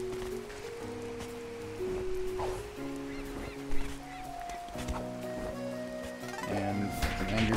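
Angry birds honk in the video game A Hat in Time, repeated goose-like honks over sustained game music, with rustling and a brief louder burst partway through.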